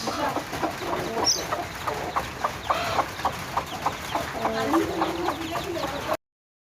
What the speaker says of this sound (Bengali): এগুলো হচ্ছে আমাদের মুরগি, কুটুস কুটুস বাচ্চা